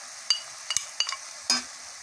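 Liver fries in a pan with spices, garlic and peppers as it is stirred, giving a soft background sizzle under a few sharp utensil clinks against the pan, with no voices.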